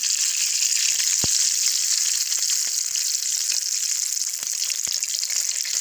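Stuffed shimla mirch (capsicum) sizzles steadily in hot oil as it is flipped, a loud continuous hiss with a few sharp ticks and pops scattered through it and no talk.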